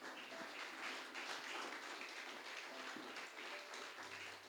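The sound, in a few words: congregation applauding in church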